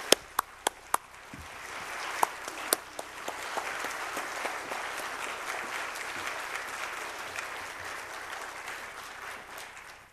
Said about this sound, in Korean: 나오실 때 뜨거운 박수로 환영해 주시면 감사하겠습니다